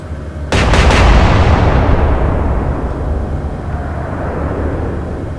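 Warship main guns firing in the naval game Atlantic Fleet, a sharp rapid salvo of several close blasts that rolls into a long booming decay and low rumble fading over several seconds.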